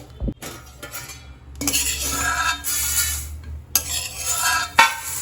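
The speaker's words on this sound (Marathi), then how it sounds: "तर पटकन ही एका प्लेटमध्ये काढून घेणार आहे" Roasted sesame seeds scraped and poured from a hot pan onto a plate, with clinking utensil and metal scraping, stirring rustles and a few sharp knocks, close and fairly loud throughout.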